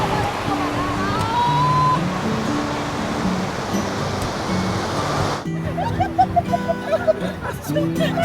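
Steady broadband wash of sea waves and surf at a beach in Bauang, La Union, with background music playing and a few brief sounds near the end.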